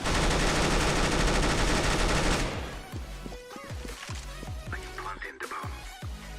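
An M249 machine gun in the game Counter-Strike: Global Offensive fires a long, loud, continuous burst up close, then breaks into quick scattered shots with short gaps between them.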